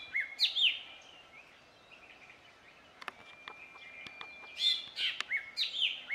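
An Oriental magpie robin sings clear, varied whistled phrases and chirps in bursts, with a quieter stretch of thin ticking notes midway, moderately close in an otherwise quiet outdoor setting.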